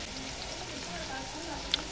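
Garlic frying in a pot for a large batch of feijoada and rice: steady, even sizzling and crackling hiss, close and continuous, with a faint click near the end.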